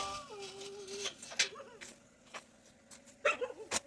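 Dogs bark and whimper in a quiet, cold village, with faint, scattered yelps and barks that sound distant against a hushed background, and a voice briefly heard.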